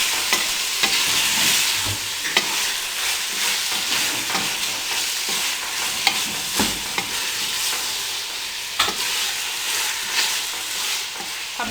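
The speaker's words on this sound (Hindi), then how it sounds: "और चमचे की मदद से इसमें अच्छी तरह मिक्स कर लें।" A spoon stirs and scrapes through potato and moongray curry with garam masala in a sizzling pan, steady frying hiss broken by irregular metallic scrapes, close and moderately loud.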